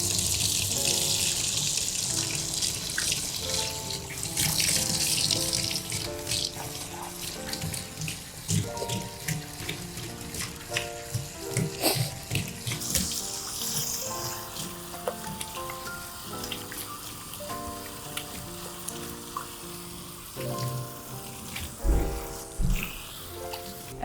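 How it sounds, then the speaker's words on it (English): Running water rinsing shampoo off a Moodle dog during grooming, a continuous close spray with splashing and changing flow, alongside faint intermittent background music. "And rinsing that first lot of shampoo off."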